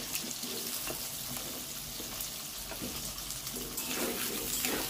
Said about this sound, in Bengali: এবার ওই তেলেতেই দিয়ে দিলাম ডুমো ডুমো করে কাটা আলুগুলো